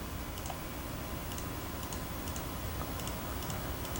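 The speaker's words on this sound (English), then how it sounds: "So I'll start clicking" Mouse clicks from drawing a shape with a pen tool in a 3D modelling program, heard as faint, sparse ticks spaced irregularly over a steady hiss, with no talking.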